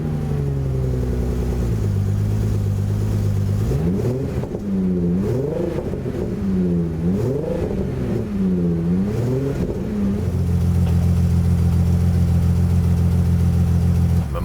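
An Aston Martin DB7 V12 runs rough and misfires, the uneven engine note wavering through repeated surging revs before settling into a lumpy, steady idle. It is heard close and alone.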